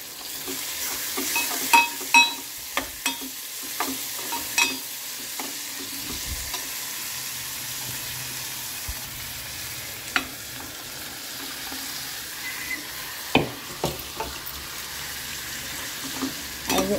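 Capsicum pieces sizzling in a pan with ginger garlic paste for an Indian breakfast, a steady low fry broken by several sharp scrapes and stirring knocks, close and alone without any talking.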